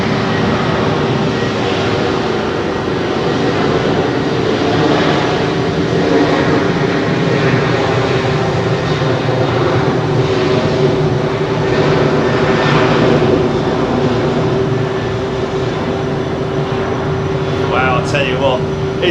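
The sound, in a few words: old 400 freighter airplane engine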